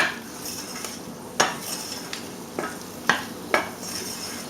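Wooden spoon stirring tomatoes around a pan as they deglaze it, faint soft scraping under a low sizzle, with a handful of sharper knocks and taps against the pan.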